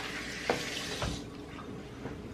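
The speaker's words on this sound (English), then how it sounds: "I can just go ahead and run it under water quick." Tap water runs in a steady rush over the sealing cap of a Hamilton Beach Big Mouth Pro juicer, with a couple of soft knocks as the part is handled under the stream.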